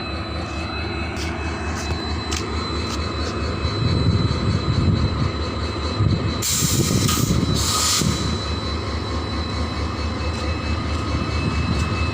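A passenger train rumbles steadily nearby at a station in Tamil Nadu, India, with a sustained low roar and a brief burst of high metallic wheel screech partway through.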